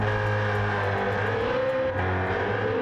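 A BMW E46 M3 GTR race car in Gran Turismo 7 howls at high revs, a loud steady engine note with brief gear-change dips in the pitch, heard alone and up close.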